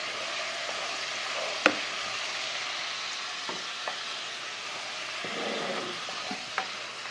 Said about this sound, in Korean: 먼저 고기랑 새우를 볶아줍니다.